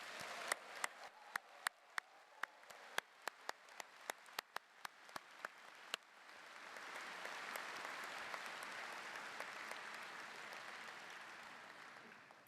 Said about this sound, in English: can you please clap for all these faculty?